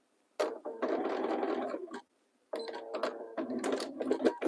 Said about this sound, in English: we're just going to sew this as low as it will let us go